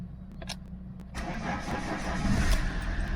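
A £300 Lancia Thesis car engine cranks and catches after a quiet low hum, then settles into a louder, steady running rumble close by, with no talk.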